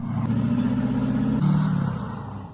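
Mercedes G-Class engine warming up, a steady, close mid-pitched hum that rises slightly in a short rev partway through, with no voices.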